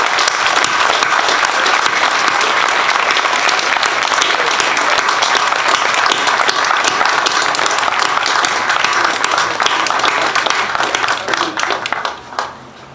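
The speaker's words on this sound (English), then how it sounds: "actually a round of applause, if you can, to Chief Brad Giroux" An audience gives a round of applause at a ceremony introducing a new colonel, with loud, dense, sustained clapping from a crowd that carries on evenly and then fades out at the end.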